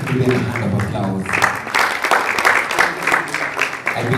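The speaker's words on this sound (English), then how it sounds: "Let's give them a hand of applause." An audience at a Hult Prize event at MMU Kenya breaks into applause, steady clapping swelling after a voice speaks briefly at the start.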